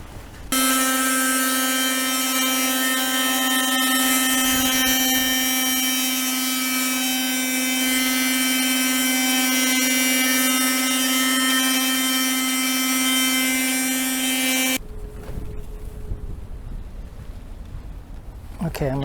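Oscillating multi-tool cutting into teak wood, a loud, steady high-pitched buzzing whine held for about fifteen seconds before cutting off, followed by quieter handling noise.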